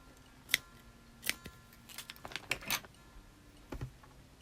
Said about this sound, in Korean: 그래서 실을 잘라 주시고요